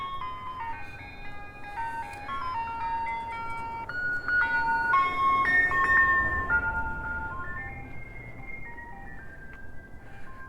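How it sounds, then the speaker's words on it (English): An ice cream truck passing through a residential neighborhood plays its tinkling melodic jingle, growing louder toward the middle and then fading slightly, over a low rumble of traffic. "When was the last time you guys saw an ice cream truck go through the neighborhood?"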